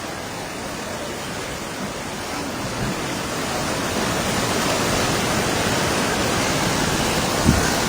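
Water rushing under pressure through the Durgapur barrage, a loud, steady broadband roar that swells slightly and never breaks, with one brief knock near the end.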